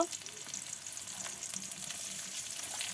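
Chopped onion, garlic, green chillies and dried chillies fry in oil over a clay stove for a water spinach bhaji, a soft, continuous sizzle with light stirring, quiet and close.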